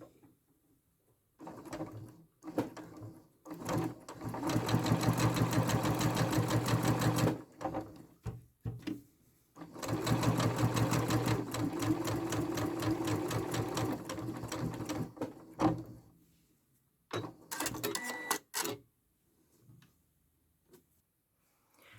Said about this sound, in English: So we can now just carry on stitching to the point of where we started.